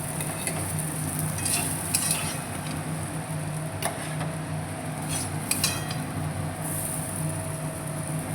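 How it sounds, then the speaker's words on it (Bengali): Mustard and chilli fry in a metal pan while a utensil stirs and scrapes, giving a steady soft sizzle broken by sharp metallic clinks, close up and with no talking. "আর একটু সরষে লঙ্কা দিয়ে আমি শুধু ভেজে নিচ্ছি"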